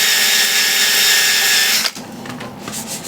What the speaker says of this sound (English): give it a little broader sanding